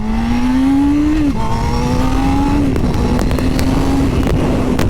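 Motorcycle engine revving loud and close, pitch climbing then dropping sharply at each quick upshift, repeated several times in a smooth rising pattern.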